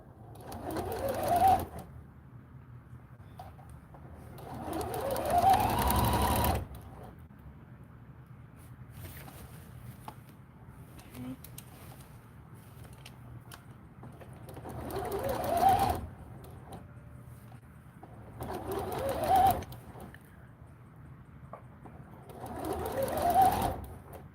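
A sewing machine stitching a seam beside a dress strap on a Belle princess costume, running in short bursts of rapid whirring separated by quiet pauses, close and moderately loud.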